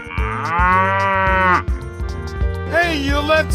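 A cow moos in a 3D animal slide video game, one long, loud moo and then a shorter second moo, both over steady game music.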